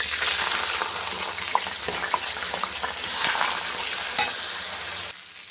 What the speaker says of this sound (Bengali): এটা ভাজা হয়ে গেছে মানে চালটা পুরো ভাজা হয়ে গেছে